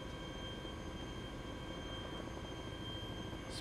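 A helicopter landing in the video game Arma 2 DayZ Epoch mod, its engine and rotor making a steady, unbroken droning roar throughout, with no talking.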